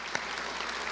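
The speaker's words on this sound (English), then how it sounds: "let's give them another round of applause" Applause for the governor and First Lady at a Let's Move rally in Jackson, Mississippi, a steady wash of crowd clapping with one sharp louder clap near the start, filling the whole moment.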